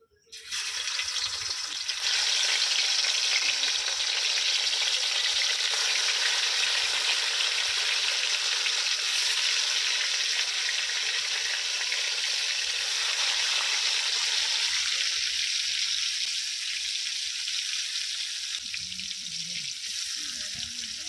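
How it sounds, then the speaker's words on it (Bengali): Loud, steady sizzling of rohu fish pieces frying in hot oil begins abruptly and continues without pause, easing slightly toward the end. "তেলটা আমার গরম হয়ে গেছে এবারে আমি মাছগুলো দিয়ে দেবো"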